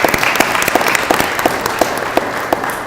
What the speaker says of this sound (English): I'd like to give a round of applause to the individuals who organized that